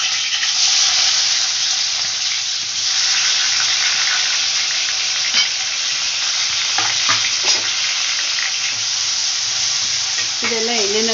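Green chillies and onion frying in hot oil, a steady dense sizzle and hiss running throughout with occasional stirring scrapes, close and loud.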